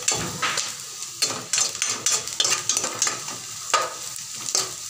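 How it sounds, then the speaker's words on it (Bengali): Sliced onions frying in a mix of ghee and oil for rajma, a steady sizzle broken by repeated scraping and stirring strokes of a spoon against the pan, close and fairly loud, with no talking. "পেঁয়াজটা আমি একটু বেরেস্তা করে নিচ্ছি"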